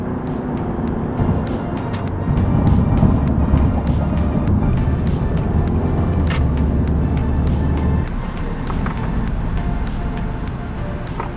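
Car driving along, a steady low rumble of road and engine noise with wind buffeting, growing somewhat louder midway and continuing without talk.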